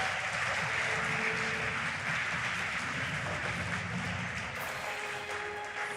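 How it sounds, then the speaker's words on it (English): An esports crowd at the 2022 FIA Motorsport Games final applauds a driver introduction steadily, a dense wash of clapping that holds at an even level throughout without pause. "A round of applause."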